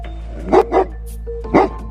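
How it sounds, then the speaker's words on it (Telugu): A dog barks loudly and close by, three sharp barks in quick succession over a low steady hum. "నరేంద్ర అనే ఒక అతని ఇంటి 2వ అంతస్తులో ఒక కుక్క రోజులో కాకుండా విపరీతంగా అరవడం మొదలుపెట్టిందంట."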